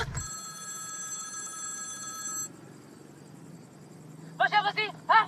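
A mobile phone rings with a steady electronic trill that stops abruptly partway through, followed by a quiet pause and then a few short bursts of shrill chirping tones.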